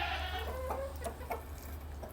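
Backyard chickens cluck softly in a few short, scattered calls over a low steady hum, faint and a little distant, with no talking.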